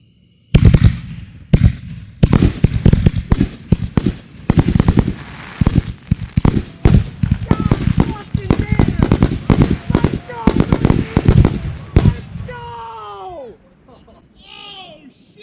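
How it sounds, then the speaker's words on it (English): Backyard fireworks go off as canister shells explode in rapid, irregular bursts of loud bangs and crackles for about twelve seconds, then fade to quieter fizzing and whistles. "Howitzer barrage!"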